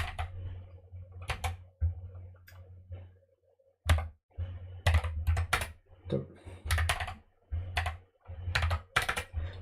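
Clicky keyboard switches clatter as someone types code, with quick irregular bursts of keystrokes broken by short pauses, close and fairly loud.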